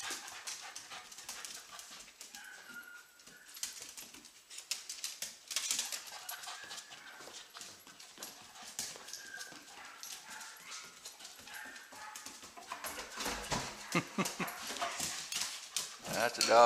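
Scent detection dog searching a room with tables during training, heard as steady close panting and quick sniffing bursts, with footsteps and a person speaking over it.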